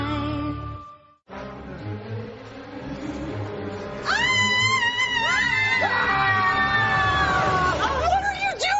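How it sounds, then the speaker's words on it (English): A woman screams loudly in a TV drama scene, with long rising and falling wails that begin about halfway through, after a stretch of quieter voices and noise. "don't scream like that"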